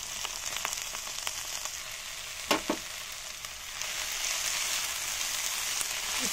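Baby corn sizzling and frying in spiced masala while being stirred, a steady close crackle with a couple of sharp scrapes of the spoon.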